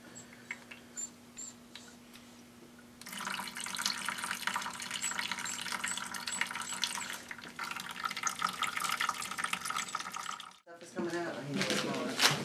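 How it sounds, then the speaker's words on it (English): Sparge water pours and trickles through a grain mash for homebrewed beer, a steady liquid rush that starts quietly and swells after a few seconds, breaks off briefly near the end, then resumes. Voices talk in the background. "what you're doing is you're rinsing the sugars out of the grain"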